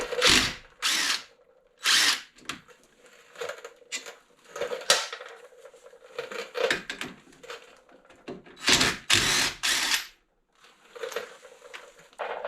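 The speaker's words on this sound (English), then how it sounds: "So we'll pull them off with the impact wrench" Impact wrench backing out 18 mm caliper bracket bolts on a 2005 Chevrolet Silverado front brake, loud close bursts of hammering whir, several separate rattling pulses with brief silent gaps, no speech.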